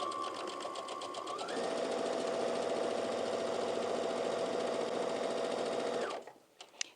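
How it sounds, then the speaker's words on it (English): Sewing machine running a straight stitch up a skirt: a steady, fast mechanical whirring hum with rapid needle clatter for about six seconds, close and moderately quiet, then stopping with a small click. "we're going to go to the sewing machine and we're going to sew a straight stitch from the bottom of the skirt"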